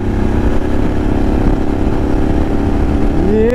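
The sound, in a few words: BMW F850 GSA motorcycle accelerating after shifting up a gear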